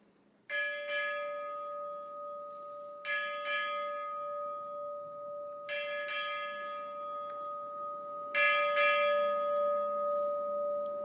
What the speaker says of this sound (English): Time orderly, strike 8 bells.